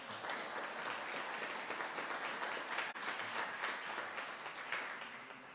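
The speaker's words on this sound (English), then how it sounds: "You should all give yourselves a round of applause" Applause from an audience at a county charitable campaign kick-off, steady and continuous, a fairly faint wash of many hands heard from a distance.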